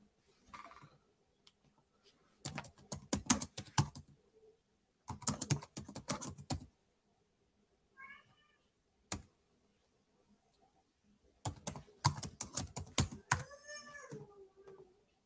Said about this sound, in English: So like I'm over here typing faster than a damn rabbit.